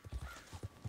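Horse hooves clip-clop in the video game Red Dead Redemption 2, a quick run of soft, muffled hoofbeats in an uneven rhythm.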